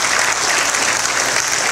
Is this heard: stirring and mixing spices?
no